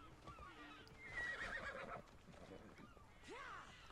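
In Assassin's Creed Odyssey, the horse neighs in a short shrill whinny, followed by another rising whinny near the end, over quiet game ambience and faint hoof clops.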